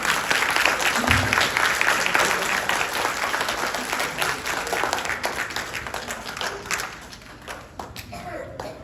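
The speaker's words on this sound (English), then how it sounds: "So everybody give a round of applause for Mr." Applause from a school audience at a first and third grade pinning ceremony, dense steady clapping that gradually thins and fades toward the end, with a voice briefly audible early on.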